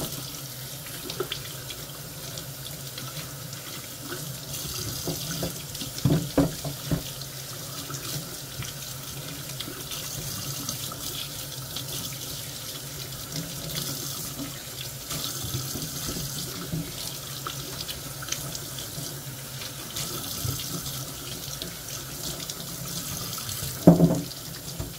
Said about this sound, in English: I hold it up like this, so when you're washing it, the stuff will go all the way out like that to the bottom